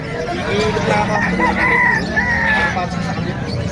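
Chickens cluck and a rooster crows over steady background noise at the Bocaue, Bulacan pet market, with people talking faintly throughout.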